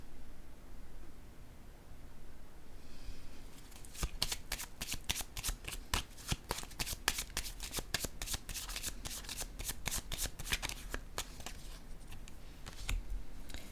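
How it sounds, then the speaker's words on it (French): Tarot-style cards are shuffled, handled and laid down during a card reading. A rapid, crisp series of riffling snaps is heard up close against quiet room noise. "Je vais déposer une carte ici."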